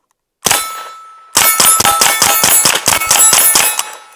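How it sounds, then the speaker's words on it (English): A suppressed Uzi 9mm fires at a range: one shot, a pause, then a rapid string of about ten sharp metallic cracks with ringing clangs, loud and close. "we've got the Uzi 9mm here. Got about 10 or so rounds loaded up. Got our suppressor on the end."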